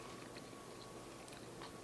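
Someone biting and chewing the end of a crunchy English cucumber, giving short, close, quiet crunches and wet chewing with no talk.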